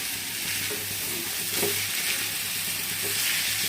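Rice being added to a pot for khichuri and stirred, making a continuous close sizzle with soft scraping stirs on top, steady throughout before cutting off abruptly.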